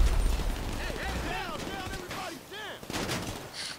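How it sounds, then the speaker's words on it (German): Grenade blast and bursts of gunfire in the video game GTA 5 Online, sharp reports and rumbling booms mixed with game effects under continuous talking. "Achtung, Granate."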